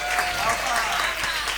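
Audience applause for Monty Peiró at a live comedy podcast taping, a steady dense wash of clapping held at even strength for its full length.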